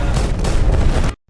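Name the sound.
dynamite explosion in a film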